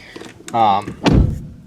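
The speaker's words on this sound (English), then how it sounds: "Door still closes completely normally." A solid car door thuds shut once, close by, with a short muffled knock just before it and a brief rattle after.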